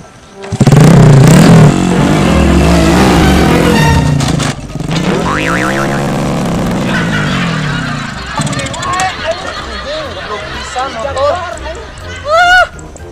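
A motorcycle engine roars and revs loudly, then sputters and drops off as it stalls, with people talking and shouting over it.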